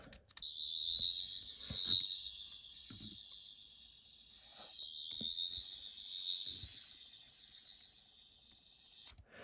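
A high, steady electronic whirring from a Twelfth Doctor sonic screwdriver replica toy on its red setting, sustained for several seconds, briefly interrupted once, with faint clicks underneath.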